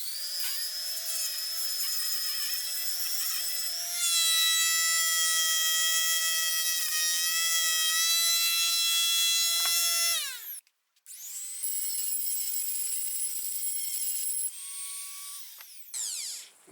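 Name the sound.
Dremel rotary tool cutting with metal disc, sparks flying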